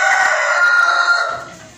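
A rooster in a chicken coop crows once, loud and close, a single drawn-out call that trails off at the end.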